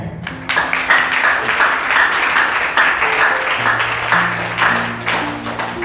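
A church congregation at a Hindi sermon gives loud applause for Jesus, a dense burst of clapping with sharp individual claps, joined by sustained organ or keyboard tones underneath.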